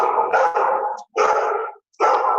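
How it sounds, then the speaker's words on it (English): A three-year-old border collie barks frantically indoors in a studio, three loud, close bursts of rapid barking broken by short pauses, with no talk. "that's our studio dog going crazy"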